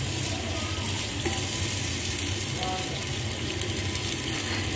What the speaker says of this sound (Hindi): अब इसमें अदरक लहसुन का पेस्ट, इसमें मैंने थोड़ा सा पानी ऐड किया है